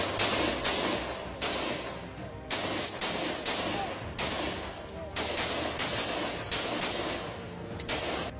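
Assault rifles fire sharp, repeated bursts at a military training ground while soldiers crawl through mud, the shots loud and steady through the whole stretch, with voices talking in the background.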